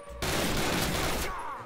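Burst of automatic gunfire in a Call of Duty video game, a dense rapid rattle of shots that starts abruptly, holds loud for about a second and then cuts off into a short fading tail.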